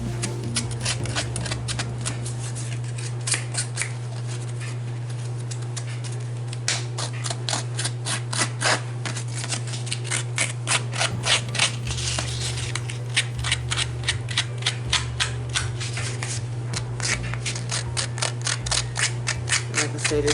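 Sharp scissors scrape along the edges of a paper tag made from repurposed packaging, giving a long run of quick, dry rasping strokes close up over a constant low hum.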